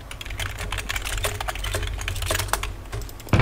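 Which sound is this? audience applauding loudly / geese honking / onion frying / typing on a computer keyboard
typing on a computer keyboard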